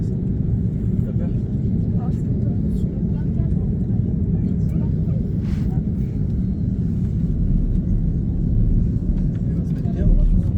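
A Corsair airliner departing Orly runs its engines at full takeoff thrust, a loud, continuous low roar that rumbles steadily throughout and swells slightly toward the end.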